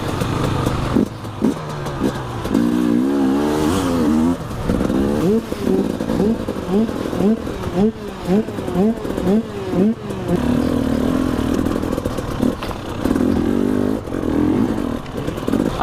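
An enduro motorcycle crosses a shallow stream, its engine revving in loud repeated bursts with clattering and splashing, close to the rider and fairly busy throughout.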